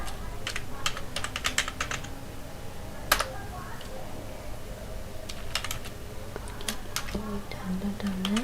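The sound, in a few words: typing text on a computer keyboard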